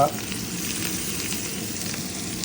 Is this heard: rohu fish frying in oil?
yes